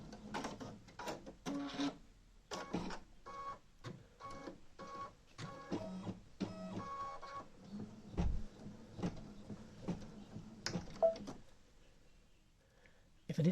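A Brother Stellaire embroidery machine stitches the outline of a pocket design. Its quick mechanical clicking and thumping runs steadily at close range and moderate volume.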